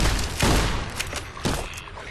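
Gunfire in the video game Fallout New Vegas: a quick burst of sharp, loud shots, about five cracks in roughly two seconds, close and punchy, with no talking over them.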